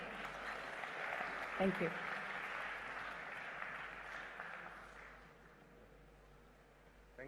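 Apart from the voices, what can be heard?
audience applause welcoming a speaker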